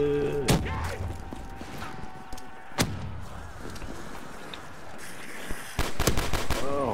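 Grenade explosions in a Black Ops 3 custom zombies map, a few sharp loud blasts spread across the moment over a busy game backdrop, with a cluster of bangs near the end.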